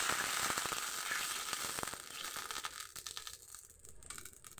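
Tamarind water poured into hot oil tempered with panch phoron bursts into a loud, steady sizzle with crackling pops that gradually settle and thin out.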